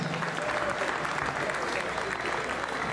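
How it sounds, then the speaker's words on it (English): A crowd claps steadily for a few seconds, a dense, even applause close by. "Round of applause for the ladies."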